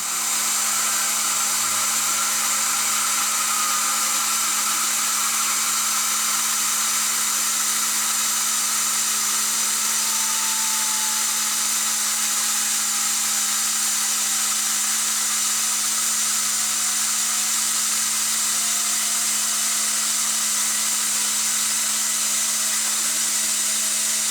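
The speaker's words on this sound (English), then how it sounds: "turn the RPM back up, take it off the feed hold, get the coolant going" A CNC machine cuts a pulley with coolant running, giving a loud, constant, even whine and hiss with a steady hum underneath that holds unchanged throughout.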